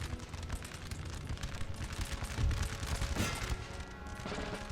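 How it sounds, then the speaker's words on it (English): Grenadier musket volleys crackle across a Napoleonic battlefield in Napoleon Total War, a dense, rumbling roll of overlapping shots with battle noise throughout, swelling briefly in the middle. "the grenadiers will open fire"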